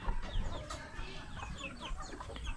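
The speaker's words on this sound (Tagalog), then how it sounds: "dami na natin mga manok, mga lagang hayop." Several chickens cluck and chatter nearby in overlapping bursts, with a busy outdoor farmyard background.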